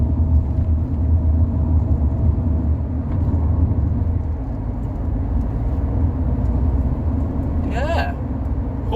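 A Rover 45 Impression S3 with CVT gearbox driving on the road, giving a steady loud rumble of engine and road noise inside the cabin, with a brief squeal near the end.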